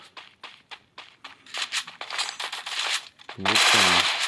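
Rapid bursts of automatic gunfire and single shots ring out in a battle royale video game tournament, loud and close, with footsteps, under excited commentary in Kazakh.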